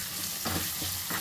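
Tempering for an instant green mango pickle sizzles in a pan, a steady frying hiss with a few brief louder bursts as it is stirred, no talking.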